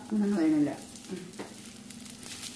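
Steady sizzling of moringa leaves frying in a hot pan, a soft continuous hiss, with a voice briefly at the start.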